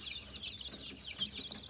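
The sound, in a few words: one-week-old chicks peeping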